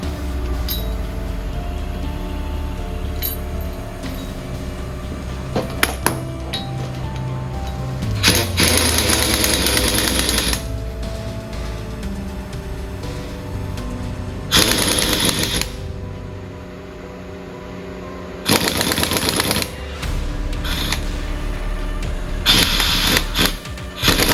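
An impact wrench compresses the front suspension springs on a worn 1967 Cadillac. It fires in four loud, rattling bursts of a few seconds each, separated by quieter stretches with light metallic clinks.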